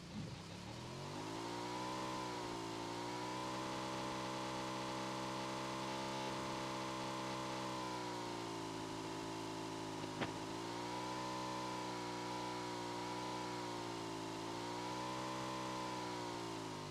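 A car engine in a video game hums steadily at mid pitch, its tone rising and dipping gently as it revs, with a brief click partway through and no talk.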